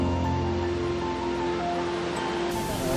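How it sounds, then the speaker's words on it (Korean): A waterfall in Nepal roars in a steady broadband rush of falling water that stays constant and fairly distant throughout; no voices. "계단을 내려가니 벌써 폭포 소리가 들리기 시작했는데요."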